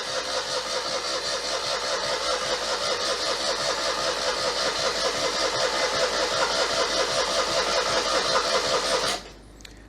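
A Citroën 2CV engine cranks steadily with a rapid rhythmic churn for about nine seconds without catching, its carburettor fuel bowl not yet filled, then cuts off abruptly.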